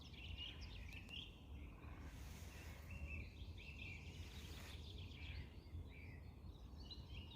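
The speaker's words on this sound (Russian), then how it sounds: "Слышите, птицы поют." Faint chirps and short song phrases from several birds come from a distance beside a forest road along the Tuskar river near Kursk, set over a steady low outdoor hum.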